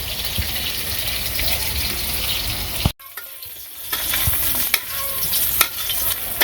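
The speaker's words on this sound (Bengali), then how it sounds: "এই যে কারকল আর পটল ভাজা হয়ে গেছে" Sliced bitter gourd and pointed gourd sizzle in hot oil in a home kitchen, a loud, continuous frying hiss broken by a brief pause and occasional stirring clatters as the pieces are turned.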